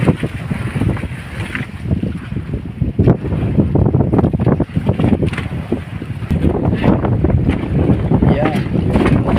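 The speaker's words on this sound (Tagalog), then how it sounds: "inaabot na naman ng lakas ng amihan nagbago ang forecast" Strong northeast monsoon (amihan) wind at sea buffets a small fishing boat, a loud continuous roar of gusts and wind hitting the microphone over splashing water, with a voice talking underneath.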